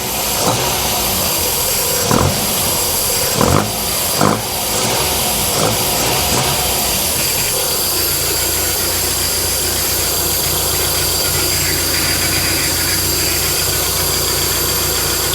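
A Toyota Altezza 3SGE engine fitted with individual throttle bodies idles steadily and loudly close by, with a few brief clicks and knocks early on before settling into an even hum.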